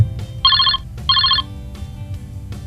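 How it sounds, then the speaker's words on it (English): A Zoom speaker-test ringtone chimes in two short bursts of a bright electronic trill, separated by a brief pause, over a low background hum. "Did you hear the ringtone?"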